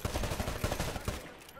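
Rapid automatic gunfire in the video game Titanfall during a Hardpoint match, a quick burst of close, punchy shots in a steady rhythm, heard at low level before stopping.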